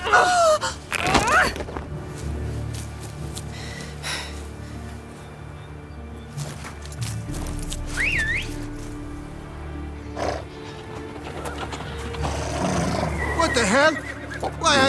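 Horses whinnying in The Witcher 3 open-world game, a couple of sharp neighs standing out over a rumbling ambient bed, with voices speaking between them.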